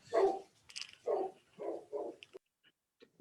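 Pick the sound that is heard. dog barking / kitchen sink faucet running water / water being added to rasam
dog barking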